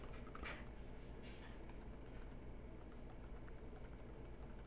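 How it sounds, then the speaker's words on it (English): Someone types numbers on a computer keyboard during a math lecture, a quiet, irregular run of soft key taps close to the microphone, heard alone. "Well, I'm just typing them in."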